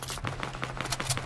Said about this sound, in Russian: У меня гасят, у меня возле этого тайного агентства тут стрельба.